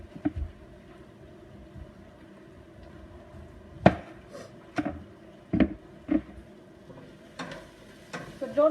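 Onion and garlic cooking in a pan, stirred with a spoon that knocks and scrapes in separate clicks over a faint, low sizzle.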